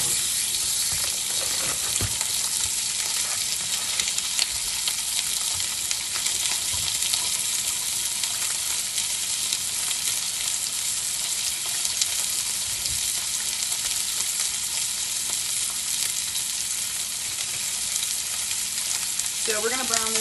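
Breakfast sausage fries in avocado oil in a pan, a constant loud close sizzle with occasional scraping as it is stirred and crumbled, continuing without pause.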